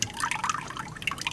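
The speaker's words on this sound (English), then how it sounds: "we got all the oil drained" Engine oil from a Polaris Ranger drains into a pan in quick, close, irregular drips and splashes, a fast patter of liquid over a short moment.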